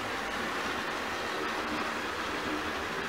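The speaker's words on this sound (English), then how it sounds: "The second one I saw was a pretty fast moving intermodal" A fast-moving westbound intermodal freight train passes as a steady, dense rushing roar of rail noise that holds at an even level throughout.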